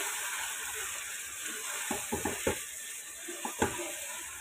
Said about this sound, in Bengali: এখন খুব ভালো করে মাংসটাকে কষিয়ে নিব